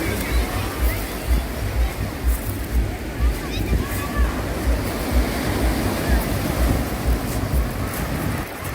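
Sea waves wash and break steadily on the shore in a continuous surging roar, with wind noise and faint voices in the background.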